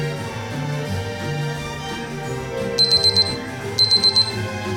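Electronic beeping from a kitchen device while a Mexican meatloaf is being cooked, two bursts of four quick, sharp beeps over steady background music.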